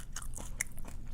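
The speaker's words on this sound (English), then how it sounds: "I love the crunchy chips." Crunchy Hawaiian snack chips are bitten and chewed in a few quick, crisp crunches spread across a second, close to the mic but fairly quiet.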